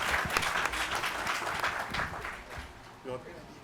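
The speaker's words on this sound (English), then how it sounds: "I clap for him" Audience at a community policing town hall applauds a guest, a steady wash of clapping fading gradually, with people talking over it.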